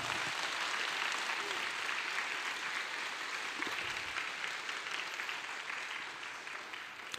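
Congregation clapping at a church summer retreat service, broad steady applause from a large gathering that fades slowly toward the end.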